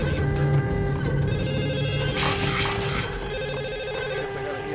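A telephone rings insistently in the video game Max Payne, a loud electronic bell trilling in repeated bursts over a dense, steady game soundtrack.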